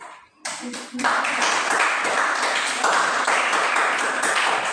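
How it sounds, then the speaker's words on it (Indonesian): A classroom of students applauds during a lesson on writing official letters, the clapping starting abruptly after a brief pause and continuing as a dense, steady burst of many hands close by. "Oke, tepuk tangan."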